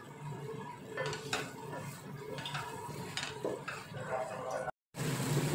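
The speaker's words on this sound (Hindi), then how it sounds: "ये दही डाल रही हूँ मैं। दस मिनट इसे भूनेंगे।" Yogurt and meat for arvi gosht sizzle in a pot while a utensil stirs, giving repeated scraping strokes over a constant frying hiss, followed by a brief dropout.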